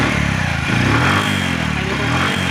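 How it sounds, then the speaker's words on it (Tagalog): A Bajaj CT100 motorcycle fitted with a 4-pin CDI revs up close by, its engine holding a steady, loud drone with slight rises in pitch and no talking over it. "So ngayon subukan natin i-rev yung motor"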